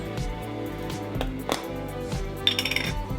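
A metal teaspoon clinks and taps against a bowl while white pepper goes into a spice mixture for Nagoya-style chicken wings, with scattered light knocks and a quick run of clicks near the end.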